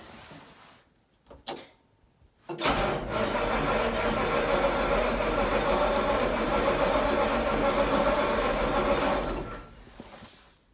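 A Massey Ferguson 1805 tractor with a 3208 diesel engine is being started after a hard crank. A few clunks lead into a loud, rough running roar that holds for several seconds and then cuts off.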